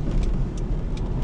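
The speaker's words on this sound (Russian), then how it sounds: "Там едет джип." A jeep drives past on a city road, heard from inside a car during a driving lesson as a steady, fairly loud engine and tyre rumble that continues throughout without speech.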